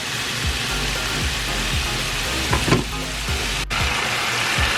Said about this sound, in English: I returned the mushrooms to the pan like I showed you, and then I added the beef broth, the steak sauce.